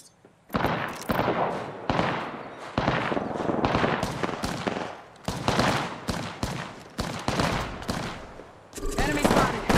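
Rapid automatic gunfire from the Apex Legends video game rattles in dense bursts for several seconds, loud and close, with short gaps between volleys.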